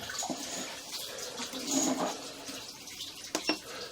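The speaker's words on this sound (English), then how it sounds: "we have some water running from the upstairs" Water from upstairs runs down a black ABS drain pipe, heard as a faint, uneven trickling and splashing inside the pipe, with brief louder gurgles and a couple of sharp knocks near the end.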